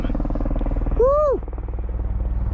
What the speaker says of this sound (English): Rescue helicopter.